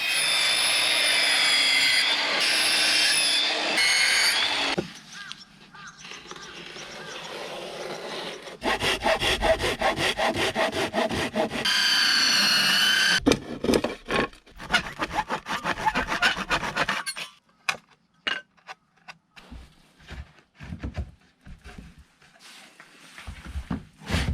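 An old black wooden board is sawn and worked by hand in long rasping strokes, shifting into bursts of rapid scraping and filing, with pauses and some louder stretches.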